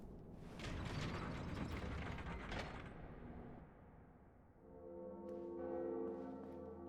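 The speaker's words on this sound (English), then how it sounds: "As the second bell tolls" The second bell tolls in the dark fantasy game Dark Souls Remastered, opening with grinding, ratcheting gear mechanisms that fade, followed by a deep resonant bell tone swelling and ringing out alone.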